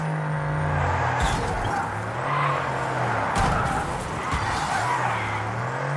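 A racing car drives fast through a video game, its engine droning steadily with rising and falling pitch while the tyres screech in bursts of skidding, loud and close throughout.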